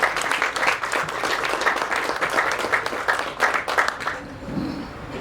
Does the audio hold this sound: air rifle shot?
no